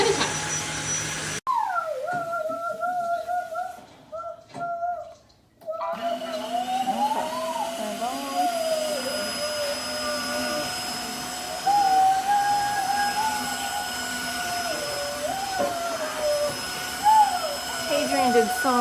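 A Tineco iFloor 3 Breeze cordless wet-dry floor cleaner runs with a steady motor whine while picking up gravel from a floor, briefly cutting out early on, then droning continuously at close range.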